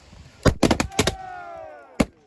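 Several sharp rifle gunshots crack in quick succession as a salute volley, followed by a voice shouting, then one more shot; loud and outdoors at an excavation site near Rzhev, Russia.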